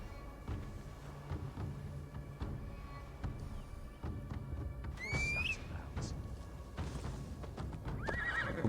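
A horse in Assassin's Creed Valhalla whinnies loudly midway, with hooves clip-clopping and background game sounds throughout; a second, shorter neigh near the end.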